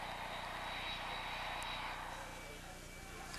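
A passenger airliner in flight, with a steady broadband cabin roar and engine drone running continuously at moderate level throughout.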